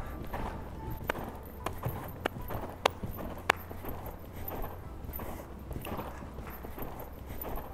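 A dressage horse's hooves fall in a steady rhythmic clip-clop during a warm-up in the arena, moderately faint and close, with a few sharper thuds standing out.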